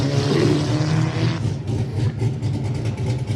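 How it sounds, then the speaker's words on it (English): Black Mazda MX-5 with a mild engine swap at a hillclimb, its engine droning loud and steady at mid pitch, easing off slightly partway through with a choppy, uneven idle-like beat. "So nice little MX-5 with a mild engine swap."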